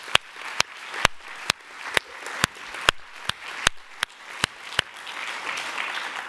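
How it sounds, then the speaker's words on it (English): Audience applause for the staff and volunteers at a marine conference session, a steady wash of many hands with sharp individual claps standing out at regular intervals, sustained throughout and gradually thinning toward the end. "I would really appreciate it if everybody could just give them a round of applause"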